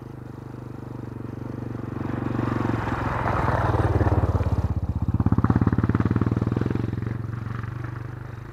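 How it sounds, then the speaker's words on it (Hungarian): A motocross dirt bike passes close by on a forest walking trail near Balatonfüred, its engine revving up to a loud buzzing peak and then fading off behind as it rides away. "itt jön egy motoros közben, cross motoros, akit én most szépen el is fogok engedni"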